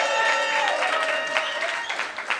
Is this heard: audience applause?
yes